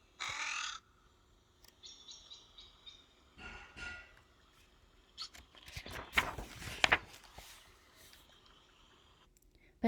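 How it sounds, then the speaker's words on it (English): A crow caws close by, a few harsh calls breaking up a quiet outdoor scene, with faint rustling and scraping between them. "Crow calls out, "Come meet and mingle.""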